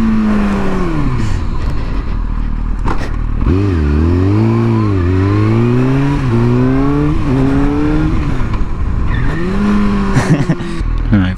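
A motorcycle engine revs hard in first gear during a wheelie attempt, loud and close, with rising and falling throttle sweeps and jerky surges between steady running.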